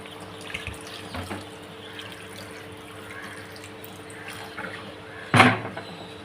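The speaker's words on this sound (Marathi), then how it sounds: "आणि यामध्ये आता पाणी टाकूया" Water is poured into a tiger prawn masala gravy in a kitchen, a brief splashing gush near the end following quiet, faint kitchen background.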